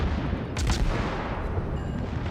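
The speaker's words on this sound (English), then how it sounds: "I'm gonna go ahead and start firing on him" Naval gunfire from the destroyer Benson in World of Warships, a dense rumbling barrage with a couple of sharper shot bursts early on over a constant low battle roar.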